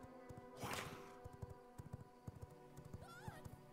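Horse hooves clip-clop in the game Vampire, a steady run of soft, moderately loud thuds over a low background hum, with a brief swishing burst early on.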